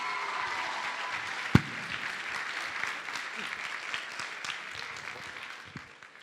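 A crowd at a school playback show gives a big round of applause, steady dense clapping with one sharp close clap near the start, slowly thinning out toward the end.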